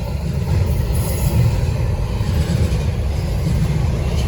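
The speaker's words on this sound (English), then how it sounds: "Train tonight." A Norfolk Southern freight train rolls by at track speed in Gaffney, South Carolina, a steady, close, heavy rumble of wheels and cars with no talking.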